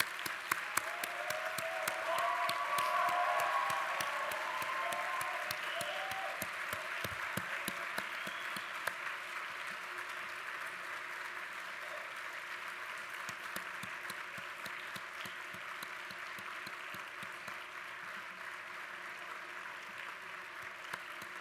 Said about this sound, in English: Please stand and join me in applauding these very important people in your lives.